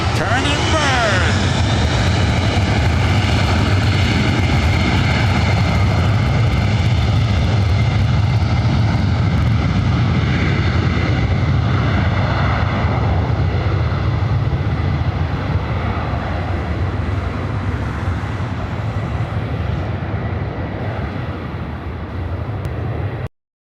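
A Delta Boeing 767-300ER airliner taking off from runway 24 right at LAX, a loud, sustained engine roar with a broad rushing noise that holds steady and then slowly fades as the jet climbs away.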